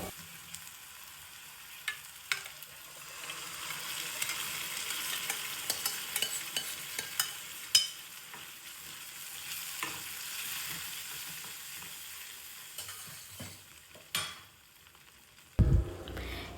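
Cooked dal stirred into frying masala in a pan gives a soft, low sizzle punctuated by sharp spoon taps and scraping stirs at irregular intervals, with a louder clatter near the end.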